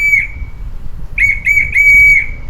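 A whistle is blown hard, giving one short shrill blast and then, after a pause, two quick chirps and a longer sustained blast. The blasts are loud and close over a low background rumble.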